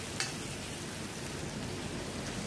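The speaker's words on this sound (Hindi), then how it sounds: "भिंडी को भी हमें सैलो फ्राई करना है" Okra (bhindi) shallow frying in a pan over low heat, giving a steady, close sizzle with soft crackle and no talk.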